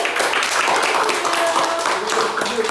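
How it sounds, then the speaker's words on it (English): Students in an English classroom clap together in a lively, fairly loud burst that holds steady throughout, with a few voices mixed in beneath the applause. "Okay, can you give applause for me?"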